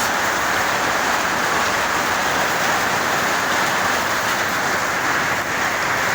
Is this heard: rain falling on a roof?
yes